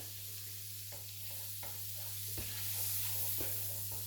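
Steak fat melting and frying in a pan for a medium-rare steak gives a steady close sizzle, with a constant low hum and a few soft scraping stirs spaced across the clip.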